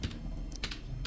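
Typing a Linux command on a computer keyboard: a short run of close, crisp key clicks in an uneven rhythm, with a few louder taps.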